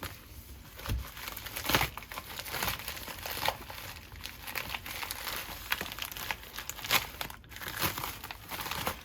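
Paper wrapping and a padded shipping envelope around a mailed book crinkle and rustle continuously for several seconds, close and fairly loud, with no talk.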